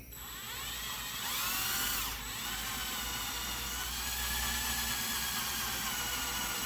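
A small power drill with a sharp bit whines steadily while boring a hole in a die-cast Hot Wheels Ford Mustang GT500 toy car; its pitch swells and dips as the load changes, close and continuous, with no voices.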